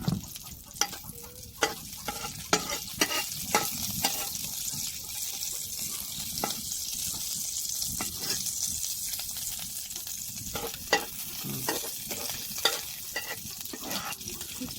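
Garlic frying in ghee for fried rice, a continuous hiss of sizzling broken by frequent sharp clicks and clatters of stirring, with faint background voices now and then.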